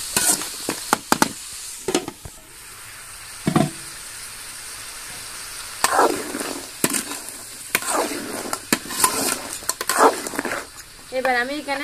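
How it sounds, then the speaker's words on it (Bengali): Crab pieces and potatoes fry together in a pan, giving an intermittent sizzle with sharp clatters and scrapes from stirring, while a voice talks at points. "এবার আমি এখানে আলুগুলো দিয়ে আর কিছুক্ষণ ভেজে নিব।"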